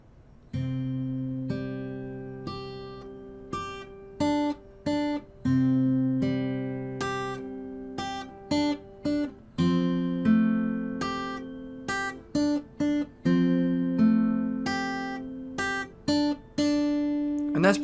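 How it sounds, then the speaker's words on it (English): Guitar strummed and picked through two repeating chord shapes from the verse of a song, ringing notes in a steady rhythmic pattern, played alone and close with no talking. "So in total, those 2 chord shapes sound like this."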